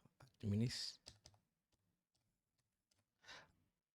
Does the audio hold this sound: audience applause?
no